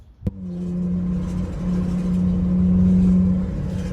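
A car with an EPC fault being driven, its engine humming steadily at a low pitch after a sharp click at the start, rising slightly in a mild rev, close and continuous with no talk.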